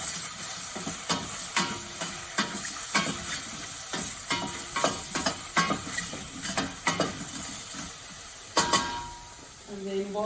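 Chicken boiling in a pot for miso soup, a steady bubbling hiss broken by frequent clinks and scrapes of stirring close by.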